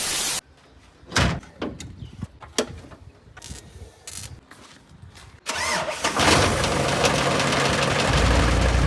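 An old Mazda car's engine cranks and catches roughly after a door sound and several sharp knocks, then settles into a loud, steady running roar close by.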